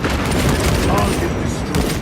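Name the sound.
frag grenade explosion in a video game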